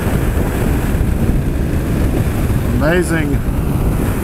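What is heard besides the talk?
strong wind at Port au Choix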